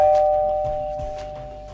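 A bright electronic ding rings out alone, its clear tone lingering and slowly fading, with a couple of soft knocks underneath.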